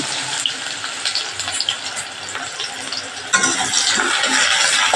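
Onion dropped into hot oil in a pan for a white pea curry, a close, steady frying sizzle that jumps louder midway as the onion hits and keeps hissing.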